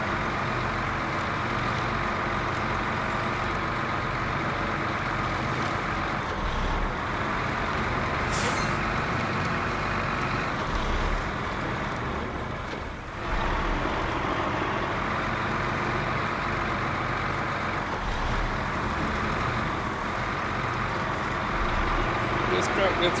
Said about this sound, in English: This truck gets around extremely well off-road.